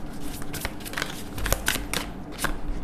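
Oracle cards being shuffled and drawn during an angel card reading, giving a run of quick, close papery riffles and flicks with a few sharper snaps, alone without talk.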